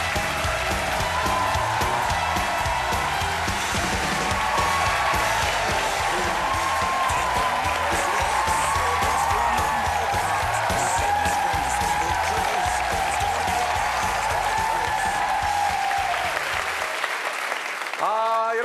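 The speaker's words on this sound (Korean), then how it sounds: "박수 받으니까 굉장히 기분이 좋아요" A studio audience at a KBS comedy show claps steadily and loudly for about seventeen seconds, a dense continuous wash of applause that stops abruptly at the end.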